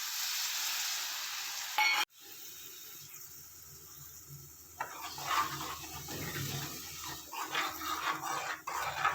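Moong dal masala with turmeric and chilli roasting in a pan, a soft close sizzle broken by a sharp knock and intermittent scraping as it is stirred, with no voices.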